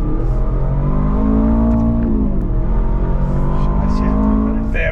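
Engine of an Aston Martin DBX 707 SUV pulls under steady acceleration, a loud, close, rising drone with layered harmonics, and a voice is briefly audible over it.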